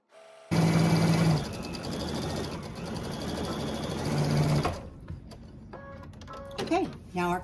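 Sewing machine stitching the cuff of a body pillow case: a loud, close, continuous mechanical whir for about four seconds that stops abruptly, followed by quieter handling clicks and rustles.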